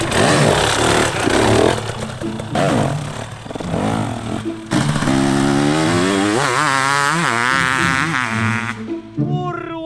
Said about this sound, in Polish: tutaj odpalasz motocykl, tutaj gasisz